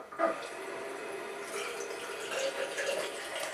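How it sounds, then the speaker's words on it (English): Water running from a tap during handwashing, a soft steady stream that starts with a faint knock and carries on quietly, with light splashing. "just being mindful to open the tap without using our hands"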